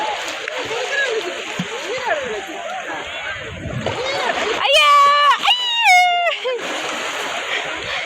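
A child plays in water during a family trip in Muscat, with steady splashing and trickling under talk and high-pitched voices.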